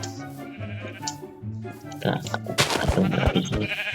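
Minecraft sheep bleat in short wavering calls in the first half. Louder clattering game sounds take over toward the end, and a voice talks over part of it.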